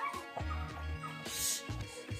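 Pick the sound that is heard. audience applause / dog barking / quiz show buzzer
dog barking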